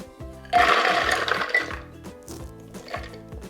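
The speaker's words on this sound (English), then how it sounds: "you wanna get out your food processor, and we're going to add 5 ounces of walnuts" A food processor grinds walnuts, a loud buzzing whir with rattling of nut pieces against the bowl in one main burst, then shorter pulses follow, with no voices.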